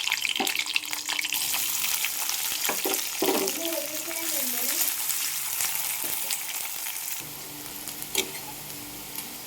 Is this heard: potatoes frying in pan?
yes